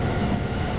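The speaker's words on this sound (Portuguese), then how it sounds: "Aqui o trem bala passando" A bullet train roars by in Tokyo during a heavy storm, a dense, steady rushing rumble filling the whole moment without pause.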